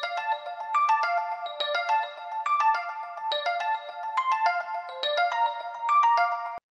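Synth arpeggio from a Minecraft remix, bright bell-like notes stepping in a steady repeating pattern, clean and alone with no drums or voices.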